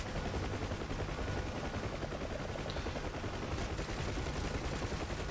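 Dense, continuous gunfire from helicopter door-mounted M60 machine guns on a Huey gunship in the DCS flight simulator, sustained bursts layered over the steady rotor and engine drone, loud and close throughout.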